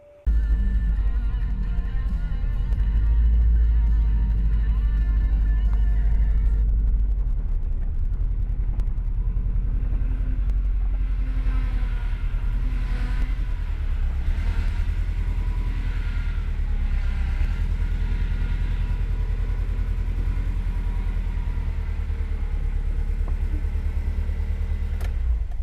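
A car rolls into a garage, its engine rumbling low and steady at close range with a brief rise in pitch early on, no voices heard.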